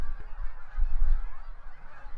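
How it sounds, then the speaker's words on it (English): Canada geese on fall migration honk in a low, rough series over steady ambient rumble, the calls fairly distant and continuous. "Canada geese cross paths with cackling and snow geese"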